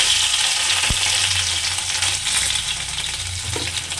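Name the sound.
fish frying in hot oil in a wok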